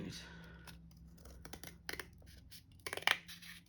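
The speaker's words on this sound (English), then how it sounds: "for now we'll just use some big scissors" Big scissors cutting paper for Book of Shadows toppers, a few sharp snips and scratchy rustles close by, with quiet handling noise in between.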